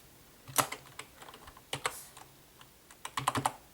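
Keys on an ONN keyboard clack in several quick, close bursts of typing, separated by short pauses, with no voices.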